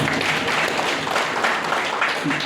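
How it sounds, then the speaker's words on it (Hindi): Audience applauding at a diamond-level DXN business meeting in Qatar: dense, steady crowd clapping fills the whole moment at even loudness, with faint voices mixed in. "आप सबके लिए प्लीज एक जोरदार ताली।"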